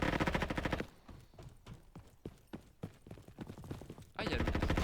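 Rapid bursts of automatic gunfire in the Roblox game Frontlines rattle through the middle of the clip, framed by denser layered game sound before and after.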